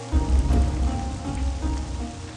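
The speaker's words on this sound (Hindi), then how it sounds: "पता भी है कि इतनी बारिश हो रही" Heavy rain pours steadily outdoors in a market street, a dense, close hiss of drops on surfaces with a low rumble underneath, continuous and fairly loud with no voices.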